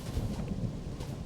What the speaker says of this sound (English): it's just a lightning storm